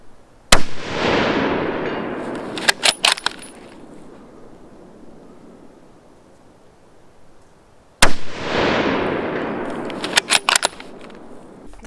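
Two loud, sharp rifle shots from a Mossberg Patriot in 7mm-08 firing 140 grain soft point ammunition, spaced several seconds apart, each booming and decaying, then followed by a few quick metallic clinks.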